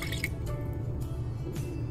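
Calamansi juice drips and trickles into a marinade for beef mechado, several light wet drips and small splashes at close range, with a brief squishy pour near the end.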